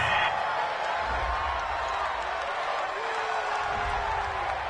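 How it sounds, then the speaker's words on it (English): A home stadium crowd in the Madden 20 football video game keeps up a steady, moderately loud roar and cheer after a penalty call on third down, with no commentary over it. "This home crowd, they're happy with that call."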